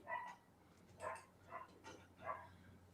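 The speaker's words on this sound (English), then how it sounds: "I hear dogs in the background at your place." Dogs barking in a backyard, about four separate barks spaced under a second apart, moderately distant and not very loud, with no talk over them.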